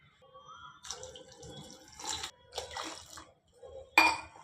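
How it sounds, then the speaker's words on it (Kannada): Water is poured from a glass into a pressure cooker of Karavali kuchhlakki rice porridge, a close, gurgling splash in several bursts with brief pauses between them. "ಇನ್ನು 2 ಗ್ಲಾಸ್ ನೀರು ಹಾಕ್ಕೊಳ್ಳೋಣ."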